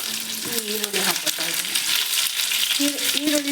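Onion and curry leaves frying in a pan with mustard seeds, for a gherkin stir-fry: a steady bright sizzle with scattered pops and crackles, close and fairly loud throughout, with faint voice-like tones in the background.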